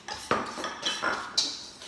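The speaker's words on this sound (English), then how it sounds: "Flour, and you can start whisking." Flour and dry ingredients for a savoury cheese bread whisked in a bowl, giving a few close, quick metallic clinks and scrapes over about two seconds, with no talking.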